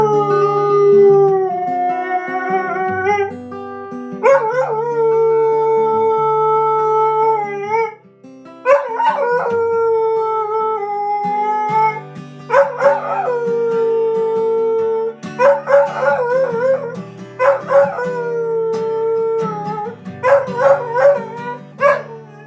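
A dog howls in long, melodious drawn-out tones that rise and fall, with several sustained howls and short yips filling the stretch, loud and close with brief pauses between phrases.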